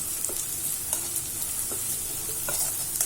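Okra rice stirred and fried in a pan, a steady bright sizzle broken by repeated scraping strokes of a spoon against the metal, close and fairly loud with no voices.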